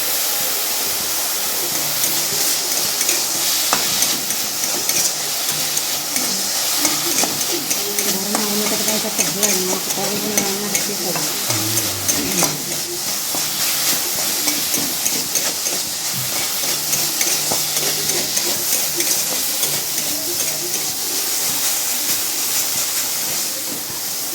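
Leafy note shaak greens stir-fry in a pan, giving a loud, continuous steamy hiss with scattered scraping and clinking of the spatula throughout.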